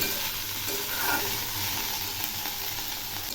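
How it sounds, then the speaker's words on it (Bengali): Thinly sliced ridge gourd stirred and fried in a pan, giving a steady close sizzle with soft scraping stirs throughout and no talk. "এখন একটু নেড়ে দিচ্ছি। এই সবজিগুলো এর সঙ্গে ভালো করে ভেজে নেব।"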